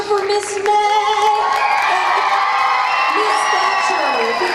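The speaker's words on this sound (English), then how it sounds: "So one more big cheer for Miss May." A school assembly crowd of children cheering and whooping for a teacher, a loud, sustained wall of young voices with rising shouts, close and filling the room.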